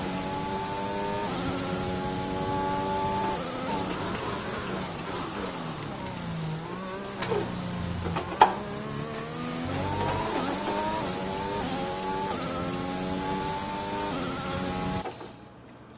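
Formula 1 car in F1 2021 accelerating hard, the engine tone climbing in repeated stepped sweeps as it shifts through gears, loud and continuous, with a couple of sharp knocks midway before it fades at the end.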